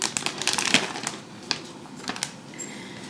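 Knife roughly chopping fresh parsley on a cutting board: a quick irregular series of sharp, close chopping taps and thuds, loud at first, then fewer strokes, with no talking.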